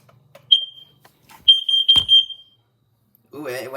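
A carbon monoxide detector sounding during a test: short, piercing electronic beeps, one chirp and then a rapid run of pulses close by, followed by a person speaking.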